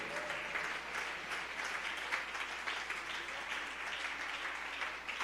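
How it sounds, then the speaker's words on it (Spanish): A Spanish-speaking congregation at an evangelical church service applauds, a steady, moderately distant patter of many hands that stays even throughout at a fairly soft level. "Dele un aplauso al Señor."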